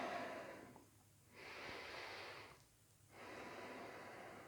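Slow, deep breaths during a yoga balance pose, close and quiet with no talk: a long exhale, a pause, a drawn inhale, another pause and a final breath.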